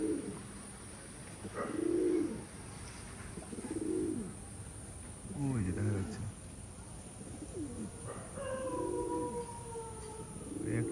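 Old-breed high-flying Khulna pigeons give low, rounded coos close by, repeating about every two seconds over a steady background hiss.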